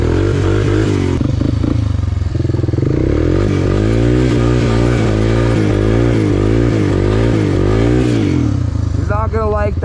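A 1985 Honda ATC 250sx three-wheeler engine roars loud and close, revving up and down repeatedly in wavering pitch, with a voice briefly heard near the end.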